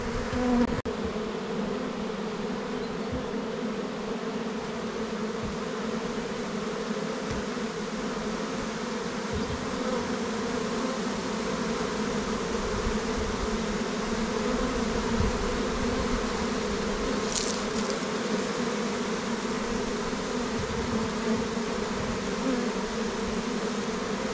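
A honeybee swarm being collected into a hive drones steadily for the whole stretch, a dense, continuous buzz of many bees with no talk over it.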